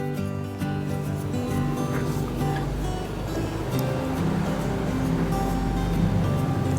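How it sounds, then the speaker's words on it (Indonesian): Cloth face mask soaking and being worked by hand in a basin of water, a steady close watery sloshing and rustling with broadband wash throughout, no voices. "Kita rendam sambil kita pegang-pegang di sini."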